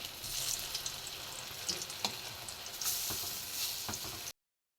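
Bitter gourd and potato fritters fry in hot oil in a home kitchen, giving a soft continuous crackling sizzle with scattered pops and small clinks, fairly quiet and close, with no one speaking.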